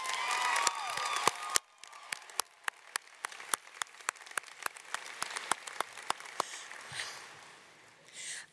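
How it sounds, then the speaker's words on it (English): Graduation audience at the Green Run Collegiate Class of 2025 ceremony applauding supporters: a dense burst of clapping at first, then thinning to scattered, distinct individual claps that keep ringing out through the rest of the moment. "Can we give them a round of applause,"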